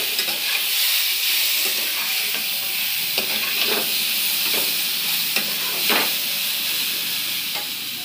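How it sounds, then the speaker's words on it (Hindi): Jackfruit being stir-fried with masala for a Bihari-style kathal sabji, a loud, constant oily sizzle close up, punctuated by several brief spatula scrapes and knocks against the pan. "इसको भूनेंगे कि मसाला मिल जाए"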